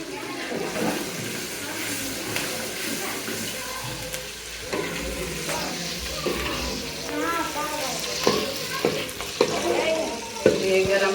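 Spices frying in hot oil in a pan, a continuous sizzle with stirring clatter and occasional sharp knocks, close by, with faint talk in the background.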